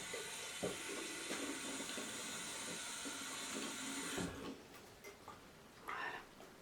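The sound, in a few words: running water rinsing off soap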